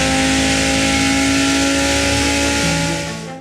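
An Audi R8 quattro supercar engine revs hard in a loud, close, sustained roar that shifts pitch once and fades at the end, with no voices.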